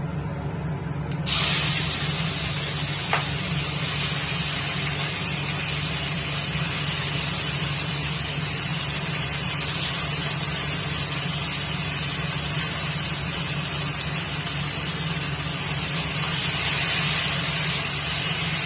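Onion and tomato dropped into hot oil with bay leaves for chicken curry, setting off a loud, steady, close sizzle that carries on almost unchanged to the end, no voices.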